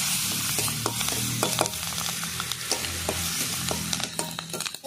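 Whole yellow and black mustard seeds with two dried red chilies and slit green chilies sizzle in hot oil, a close, continuous crackle with scattered sharp pops.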